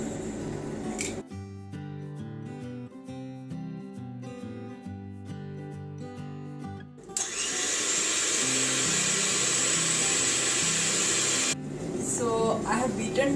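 An electric whisk beats eggs for gluten-free chocolate cupcakes; a steady, close motor whine runs for several seconds after a stretch of background music.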